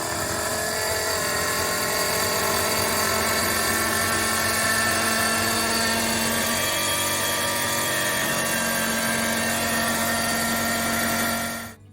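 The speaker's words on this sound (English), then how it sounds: "Sorry about the noise of the pump," Electric pump drawing antifreeze into a Volvo diesel engine aboard a Carver yacht, a loud, steady motor whine that holds unbroken and close before cutting off at the end, with no talk.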